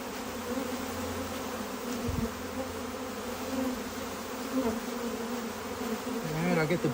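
A package of honey bees hums and buzzes steadily at close range while being shaken into a top bar hive, with a few handling bumps and no speech.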